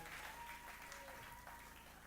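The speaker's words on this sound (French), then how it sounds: "Applaudissez très fort pour le Seigneur." Church congregation applauding loudly for the Lord during a French and Lingala worship service, a dense steady wash of clapping lasting throughout with faint voices underneath.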